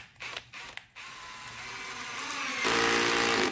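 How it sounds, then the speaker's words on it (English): Ozito brushless hammer drill whirring as it drives a screw into wood, motor rising steadily in pitch and load, preceded by a few brief clicks and handling noises. "the drill we'll be using is the new ozito brushless hammer drill"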